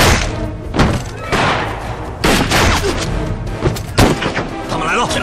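Rifle shots ring out in a wartime action scene against Japanese soldiers, with a few heavy booming reports spaced a second or more apart over busy action noise and voices.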